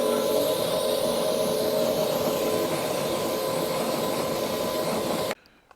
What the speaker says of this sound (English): let's rinse this wheel off.